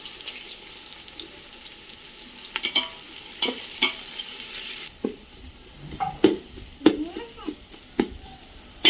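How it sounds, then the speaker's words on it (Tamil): Onions frying in oil in a pot over a wood-fired village stove for mutton biryani, with a steady sizzle and intermittent scraping and clinking as they are stirred. "நல்லா எண்ணெய் ஊற்றி வெங்காயம் ஆட் பண்ணியாச்சு"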